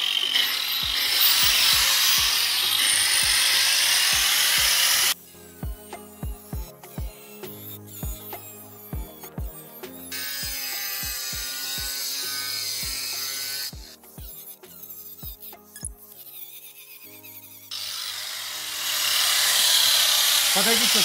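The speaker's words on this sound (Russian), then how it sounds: "Кто-то из подписчиков спрашивал, как пилится керамогранит." A disc saw cuts a porcelain stoneware tile windowsill in three loud, harsh grinding stretches. Between the cuts come quieter, rhythmic tonal and clattering sounds.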